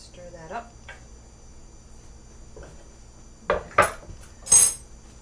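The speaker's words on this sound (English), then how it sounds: "Okay, let's stir that up." A spoon stirs mac and cheese in a pot on a stove, giving a few quiet scrapes and then three sharper clinks against the pot near the end, with a brief voice early on.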